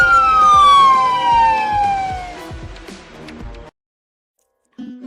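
Loud, close siren wail sweeping downward in pitch, sounding like an ambulance, with pulsing tones and a steady rhythm, then a sudden cut to silence and a brief faint sound near the end.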